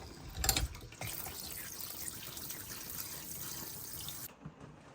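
Running tap water splashes and trickles over strained shrimp in a sink, a short steady rinse that cuts off near the end.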